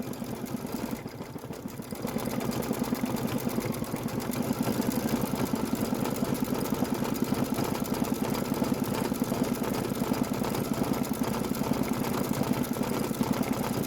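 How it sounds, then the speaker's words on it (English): An embroidery machine stitches a pinwheel window fill for a candy corn quilt block. After a short pause it starts up, then runs with a steady, close, rapid mechanical chatter at an even rhythm with no talking. "hit start again because it is going to do the door pinwheel window fill stitch"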